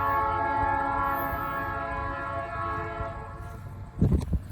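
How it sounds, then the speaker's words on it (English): A GE B23-7 diesel locomotive sounds a long sustained multi-tone horn over a rumbling engine, fairly close, then the horn fades and low rail clatter and thumps rise near the end. "Love the sound of that locomotive."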